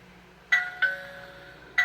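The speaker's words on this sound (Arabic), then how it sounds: "لو الكالون مقفول وفي حد ضرب الجرس كده" A smart-lock door's doorbell rings three times in short succession, each a bright electronic two-tone chime with a sharp start and lingering tail, the last cut short; moderately loud against a quiet room.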